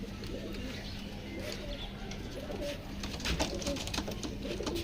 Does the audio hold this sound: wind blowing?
no